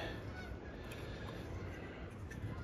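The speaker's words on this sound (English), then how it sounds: "I hear the geese." Geese honking outdoors around a woodworking spot where a cedar end table is being built, steady faint calls blended into a constant noisy background, distant and with no talking.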